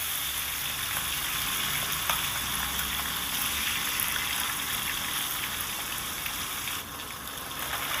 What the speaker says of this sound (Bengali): তেলটাকে খুব ভালো করে গরম করে মাছগুলোকে দিতে হবে সব কটা মাছকে একসাথেই দিয়ে দিলাম